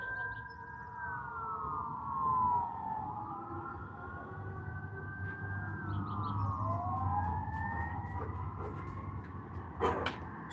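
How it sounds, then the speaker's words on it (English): Several fire truck sirens wail at a distance around an apartment complex after an explosion and power outage, their overlapping rising and falling tones sweeping over a low rumble of traffic, with a brief clatter near the end. "You hear all them fire trucks?"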